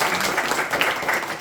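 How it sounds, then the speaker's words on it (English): A small audience at a Bhagavad Gita study gathering gives a brief, steady round of applause, many hands clapping together at moderate volume. "So please give a round of applause to Rajiv Prabhu."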